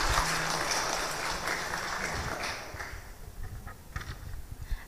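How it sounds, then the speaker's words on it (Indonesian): Audience at a public talk applauding its speakers, a broad burst of clapping that thins and fades over several seconds into scattered claps and room noise. "Boleh berikan tepuk tangannya untuk para narasumber kita."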